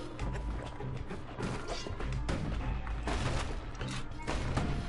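Rapid scrap salvo grenade blasts from the video game Bastion, a dense run of crashing, whacking impacts layered over continuous game music and effects, loud and busy throughout.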